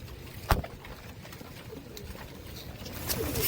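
Royal Teddy pigeons coo softly in the background among faint outdoor noise, with a sharp tap near the start and a few light knocks.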